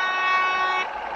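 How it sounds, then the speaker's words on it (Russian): A Mercedes bus horn in Bus Simulator: Ultimate, driving through fog in France, sounds as one loud, steady tonal honk lasting under a second before cutting off. "Погудим."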